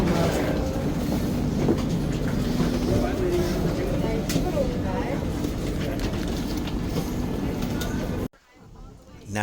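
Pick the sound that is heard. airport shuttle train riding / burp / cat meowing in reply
airport shuttle train riding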